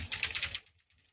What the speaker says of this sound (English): Randomly I'm typing, just putting some keys there.